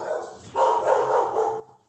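Dogs barking in a short burst, one fairly close yelp followed by a sustained run of overlapping barks that cuts off abruptly, with no talk over it.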